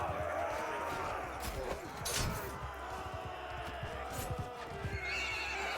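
Horse neighs and hooves clip-clop in the Joan of Arc strategy video game, a whinny mixed with dense rapid hoofbeats and battle clatter over a steady background din, with faint talk now and then.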